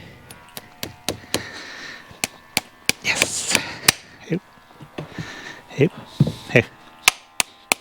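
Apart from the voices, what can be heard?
hammering a nail into a horseshoe on a hoof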